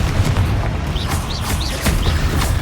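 Explosive spell blasts in Hogwarts Legacy, a dense run of booming impacts with crackling bursts and short whooshing casts, loud and continuous throughout a chaotic fight.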